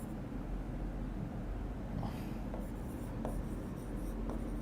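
A teacher writing on a board during a Bangla class, giving a steady scratchy stroke sound with a few sharper taps, close and continuous, with no talking.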